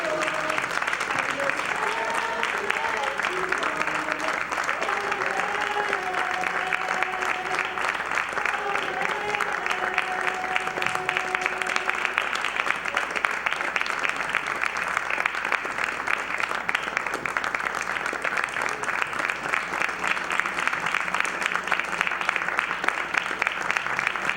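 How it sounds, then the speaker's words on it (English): A theatre audience applauds a musician at a live show, loud sustained clapping over lingering sung and instrumental notes that fade out early, the clapping carrying on densely alone. "applause for our musician in the house"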